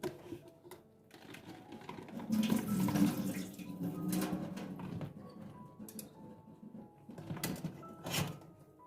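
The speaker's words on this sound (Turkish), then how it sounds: "Şimdi bunun dibindeki o acı suyunu süzüyoruz." Bitter brine drains from a container of cured black olives, a close liquid trickle and splash that swells and fades in bursts, with a few light knocks.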